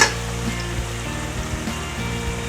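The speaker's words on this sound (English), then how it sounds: "they're getting nice and fried in there" Potatoes sizzling and frying in a hot pan for a diner-style breakfast, a steady crackling hiss with faint soft knocks from turning them, close and continuous with no voices.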